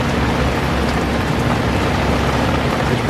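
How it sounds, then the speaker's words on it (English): Heavy rain pouring steadily outside a car dyno shop where a Camaro ZL1 1LE sits, a loud, dense, unbroken hiss of drops drumming on surfaces and paint. "I told you it was gonna rain."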